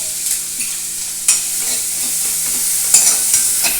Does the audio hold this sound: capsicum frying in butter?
yes